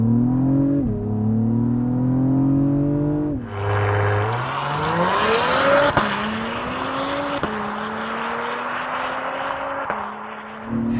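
A 2024 Acura TLX Type S with a 3-liter turbo V6 launches hard from a brake-boost start, its engine note climbing through loud rising revs with quick dips at each gearshift, close and continuous.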